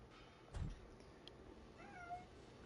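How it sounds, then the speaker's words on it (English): A house cat gives a short, faint meow, heard once near the end after a soft thump, against a quiet indoor background with no talk. "my cat's awake as well"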